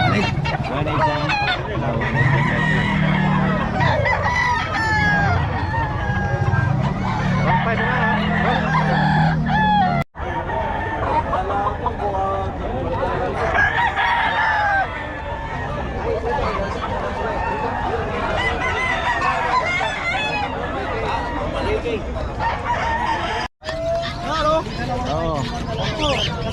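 Many roosters crow and cluck near and far at a busy rooster sale, with a babble of buyers and sellers haggling over the birds throughout.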